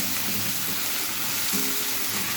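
Curry with turmeric bubbling and sizzling in a pan, a dense, steady crackling hiss that stays close and even throughout, with no talking.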